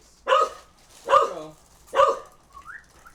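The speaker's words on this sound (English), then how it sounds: "He barks a lot in case you couldn't tell." A pet dog named Jocko gives three sharp barks in a steady rhythm, fairly close, ending with a faint whine.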